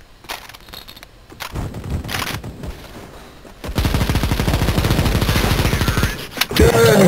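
Gunfire in CS:GO on the Cache map, with scattered shots at first, then a sustained rapid burst of automatic fire up close, and people talking over it.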